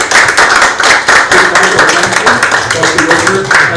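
Audience applause at a community public safety gathering, a dense, steady wash of many hands clapping, loud and close, sustained for the whole stretch with slight swells and no clear talk over it.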